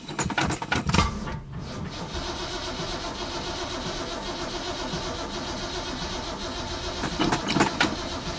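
A car engine cranks and sputters during a cold start with a weak battery, then runs with a rough idle before revving up again.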